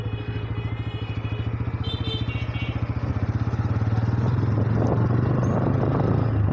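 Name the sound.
Pulsar N160 motorcycle riding through a market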